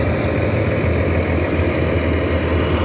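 A big truck's diesel engine idles close by, a loud, steady low rumble with constant vibration and no pauses.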